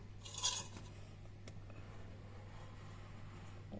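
A triple-bottom saucepan is handled in a kitchen, giving one brief metallic clatter and a soft clink, then a steady low hum, quiet and close with no voices.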